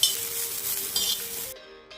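Kharda ingredients dry-roasting on a hot tawa give a steady, close crackling sizzle with faint clinks, which cuts off abruptly about three quarters of the way through.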